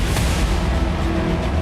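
Iranian missile strikes on Israeli air bases: a dense, loud rumbling roar with heavy low booms, the first near the start, continuing without a break.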